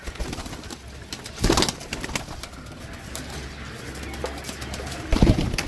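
A pigeon coos in two soft bursts a few seconds apart against a quiet background hum.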